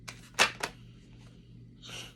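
Tarot cards are shuffled close by, with a couple of sharp riffling bursts early on, a quiet pause, then a softer sliding shuffle near the end, over a low steady hum.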